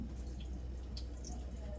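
Water drains through a pot drain strainer in a kitchen sink, giving a faint, steady patter of drips and trickling with no talk over it.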